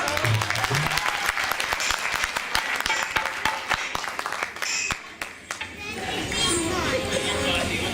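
Applause breaks out at a Holi celebration at Vishwa Hindu Mandir, a burst of crowd clapping that fades after about five seconds into chatter and children's voices.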